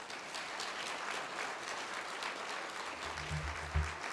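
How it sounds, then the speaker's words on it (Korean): Sustained applause from a church congregation fills the space evenly, many hands clapping at once, with a low hum entering near the end. "우리 목사님 나오실 때 크게 환영과 감사로 박수 올려드리겠습니다."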